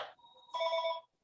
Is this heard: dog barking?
no